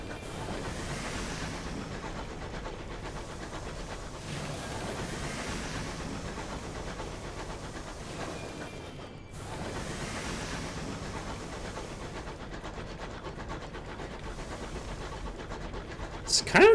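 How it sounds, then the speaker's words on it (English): A train in the video game Sunless Skies moves forward with a steady rumbling, hissing drone, continuous and moderately loud with soft rhythmic clatter. "Just listening to the train go forward."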